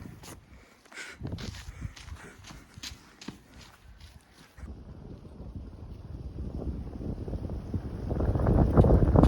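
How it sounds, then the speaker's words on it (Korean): Strong wind buffets the microphone in gusts that grow louder and rougher toward the end, mixed with light rustling and footsteps outdoors near a traditional hanok village on Palgongsan mountain. "갑자기 이렇 바람이 많이 분다고?"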